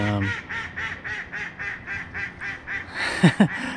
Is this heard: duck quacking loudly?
yes